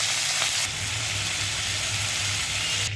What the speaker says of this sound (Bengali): ওই তেলেই আমি কিছুটা চিংড়ি মাছ ভেজে তুলে রাখবো।